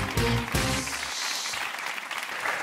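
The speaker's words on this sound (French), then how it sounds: "Sous les applaudissements du public." Studio audience applause on a French television show, dense clapping that starts under a brief stretch of talking and then carries on alone as a steady, moderately loud wash.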